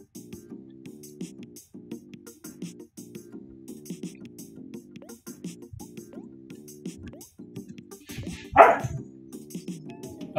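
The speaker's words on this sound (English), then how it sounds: "those are my dogs" Several dogs bark at home in short, repeated yaps, moderately close, over a steady game soundtrack with rhythmic tones, ending with a louder burst of sound.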